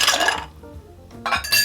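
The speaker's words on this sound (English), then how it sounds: "Next, we'll add ice to the mixing glass" Ice cubes tumble into a cocktail mixing glass already holding gin, sweet vermouth and Fernet Branca, two bright clinking bursts separated by a short quiet gap, close up with no speech.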